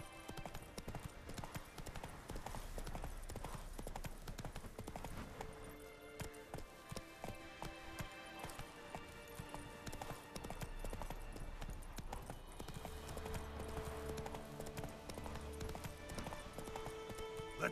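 Hooves of the horse Roach galloping in The Witcher 3, a fast continuous clip-clop drumming across open ground, loud and steady with game ambience underneath and occasional tack and breath noises.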